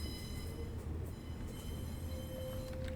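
A Class 86 electric locomotive passes northbound on the West Coast Main Line over Shap in Train Simulator Classic, giving a continuous rolling rumble of wheels and carriages with a faint thin whine near the end.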